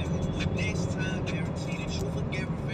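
Car driving on a highway, a steady low engine and road rumble heard from inside, with people talking over it throughout.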